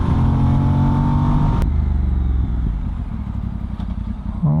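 A VOGE DS800X Rally motorcycle engine runs loud and close, its rough revving note shifting and settling toward a steady throb with some mechanical clatter.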